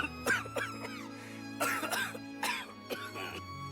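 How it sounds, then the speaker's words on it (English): A character in the fighting game Soul Calibur VI coughs in several harsh, rasping bursts, with game music playing steadily underneath. "He's coughing, so you know he's sick."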